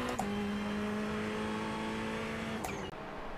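A racing car engine in iRacing at Bathurst holds a steady, sustained drone at constant pitch, dipping briefly near the end as the car shifts, with no voices over it.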